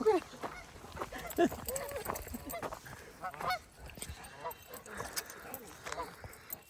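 Geese honk repeatedly at a lake in Umatilla National Forest, loud close calls in an irregular series, with people talking over them and a dog splashing nearby.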